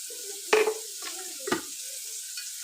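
Onions and spices frying in a pan for vegetable biryani, stirred in a few distinct scrapes over a soft background sizzle, close and without talk.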